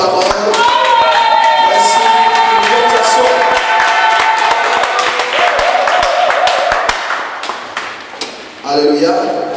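A church congregation in Paris claps and cheers loudly and steadily, the applause rising over music and fading near the end as a voice returns.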